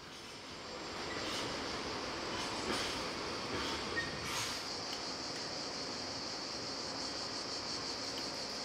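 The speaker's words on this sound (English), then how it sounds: "Another Siemens design, this time one of the new Vectrons." A Siemens Vectron electric locomotive hauls a train past, a steady rumble of wheels and a faint high whine at moderate distance, fairly quiet throughout.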